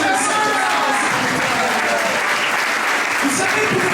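Steady, loud applause from a congregation fills a church during a lively service of healing and celebration in Mauritius, continuous throughout with a dense crowd texture.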